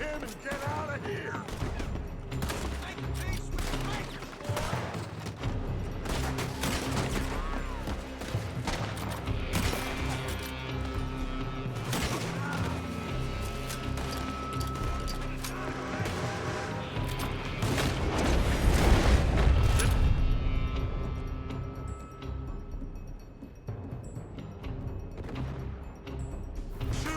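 Rapid gunfire from a building in Red Dead Redemption 2: dense volleys of shots and booms crackle continuously over a busy in-game soundscape, with a heavier burst of loud firing near the end.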